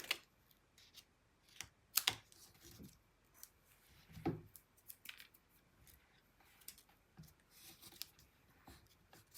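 Scissors trimming a piece from a Forever Friends craft kit: faint, close snips and crisp paper crunches scattered irregularly over quiet room tone, with light tapping and rustling between cuts and no speech.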